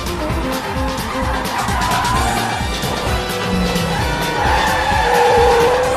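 A car driven recklessly in a chase scene from a Hindi comedy film skids, its tires squealing and engine roaring loudly and continuously over dense action-movie background noise.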